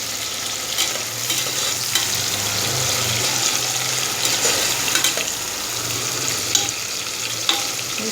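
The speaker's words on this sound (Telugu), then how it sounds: "అలాగే పచ్చిమిర్చి కూడా వేసుకోవాలి. వీటిని బాగా ఫ్రై చేయాలి." Green chillies fry in a pan for podina rice, giving a steady broadband sizzle with occasional stirring scrapes and clicks throughout, close and continuous with no talking.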